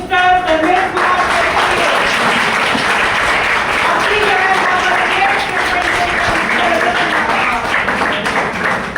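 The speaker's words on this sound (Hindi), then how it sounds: "तो एक बार जोरदार तालियां होनी चाहिए" Audience applause welcoming a presenter onstage at a business plan show, loud sustained clapping throughout with a voice talking over it at the start.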